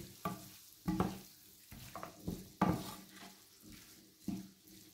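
A frying filling is stirred with parsley in a pan, heard as a series of scraping strokes and soft clunks in an uneven rhythm over a faint sizzle, fairly quiet.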